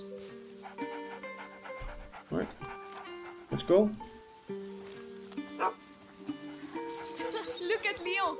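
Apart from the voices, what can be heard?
dog panting and barking, from the video game A Plague Tale: Innocence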